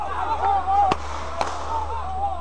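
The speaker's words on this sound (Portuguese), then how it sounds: "Veja novamente o momento dos tiros." Two sharp gunshots crack about half a second apart amid a tense street protest, heard at moderate distance over a low background murmur of the crowd.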